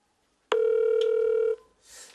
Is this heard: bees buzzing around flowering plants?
no